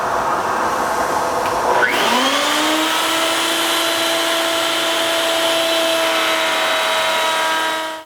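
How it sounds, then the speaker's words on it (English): A router on a router table, slowed down for a large roundover bit, spins up to a steady high whine and holds a sustained loud drone while cutting wood, then cuts off abruptly at the end. "It's a pretty good size roundover I have in here, so I've slowed the router speed down."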